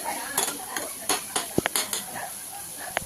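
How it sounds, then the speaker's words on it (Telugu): Mushroom curry being stirred and fried in a pan, with a soft sizzle under scattered scraping and clinking of a utensil against the pan, several sharp taps standing out close by. "ఈ విధంగా వేయించుకున్న తర్వాత పచ్చివాసన పోయేదాకా వేయించుకుని"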